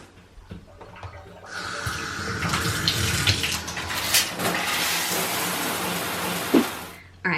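Water from a home shower runs in a steady hiss, starting after a short pause and continuing close and loud, with a few knocks and splashes, before cutting off at the end.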